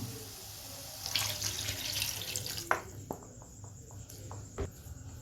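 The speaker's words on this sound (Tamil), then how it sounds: "இப்போ இதுக்கு தேவையான அளவு தண்ணி சேர்த்துக்கலாம்" Water splashes and pours into a pan of sautéed ingredients for fish curry, with a few sharp clinks and drips near the end and no talking.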